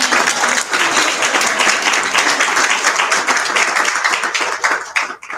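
Steady, full applause from an audience, continuous and loud, tapering slightly at the end.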